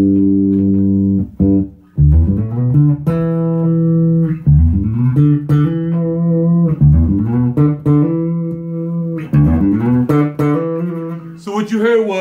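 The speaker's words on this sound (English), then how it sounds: "So what you heard was the neck pickup" A 2017 Rickenbacker 4003 bass in walnut, played through its neck pickup with round, sustained notes and short riffs, close and loud, a few brief gaps between phrases and no talking over it.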